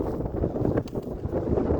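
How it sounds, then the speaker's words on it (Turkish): Strong wind buffets the microphone on Uludağ mountain in a continuous low roar, gusting unevenly for a couple of seconds with no voices. "Ama burası çok rüzgarlı."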